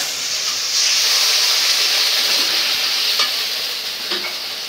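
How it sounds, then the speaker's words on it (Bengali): Spices sizzle and hiss loudly in a pan after a splash of water goes in, with fried onion and garlic already in it, a steady frying crackle with occasional stirring scrapes. "মশলাটা কষায় নেওয়ার জন্য একটু পানি দিয়ে দিলাম।"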